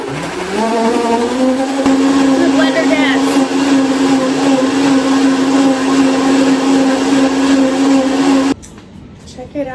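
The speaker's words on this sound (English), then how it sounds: "here's my watermelon in the blender. I'm just gonna blend that up." A blender blending watermelon whirs up to a loud, steady high-pitched drone, running continuously before abruptly switching off.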